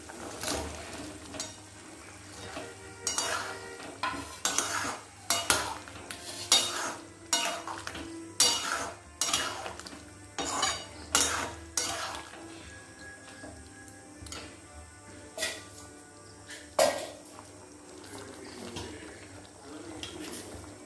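Chicken pieces being stirred into simmering Manchurian sauce in a pan, with repeated clinks and scrapes of a spoon against metal coming in irregular bursts over a soft bubbling background.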